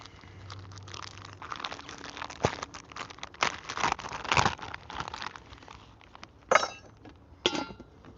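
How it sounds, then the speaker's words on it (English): Thick-cut bacon package being cut and torn open outdoors at a backyard wood-fire breakfast: crinkling plastic rustles and crunches in several bursts, with sharper snips and tears near the end, close and moderately loud. "we're gonna cut our bacon open"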